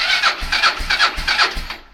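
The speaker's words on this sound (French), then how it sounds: "vous allez voir le moteur qui est avec une batterie complètement à plat" Small single-cylinder engine with a decompressor, cranked on a completely flat battery, turning over in four slow, labored, evenly spaced strokes over two seconds, each with a low thump under a rasping mechanical whir, close and loud.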